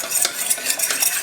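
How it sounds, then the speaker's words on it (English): A spoon stirs a cornstarch and cold water slurry in a bowl, giving a loud, steady scraping swirl with quick repeated strokes and no voices. "I'm going to give this a stir."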